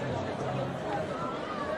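Dense crowd chatter fills a busy awards event, a steady close babble of many overlapping voices with no single speaker standing out.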